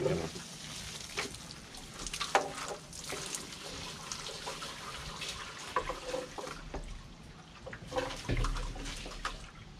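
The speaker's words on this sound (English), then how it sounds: "now I'm gonna fill this halfway up with water." Water pours into a Pentair Triton II sand filter tank being filled halfway, a soft continuous trickle and splash with small irregular gurgles, fairly quiet and close.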